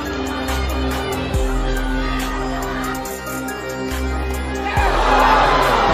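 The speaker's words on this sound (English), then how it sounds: "Crowd are absolutely loving this." A crowd at a boxing match cheers and roars loudly and continuously, with the noise swelling toward the end under a steady low musical drone.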